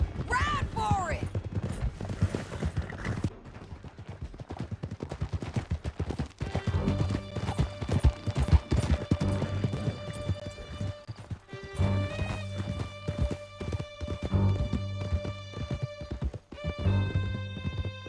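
Horses gallop in steady clip-clop rhythm through a canyon chase in Red Dead Redemption 2, hooves pounding close and loud alongside a whinny, with sustained music tones and occasional talk over the ride.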